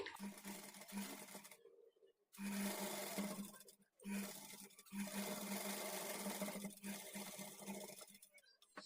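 A sewing machine stitches the front part of a blouse at a quarter-inch margin, its steady motor whir running in three long bursts separated by short pauses, close and fairly loud with no talking.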